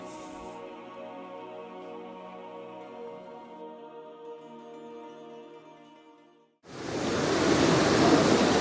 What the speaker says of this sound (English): the waterfall and rapids on the left of the shot